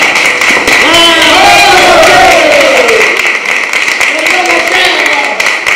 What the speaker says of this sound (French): applaudissez notre manager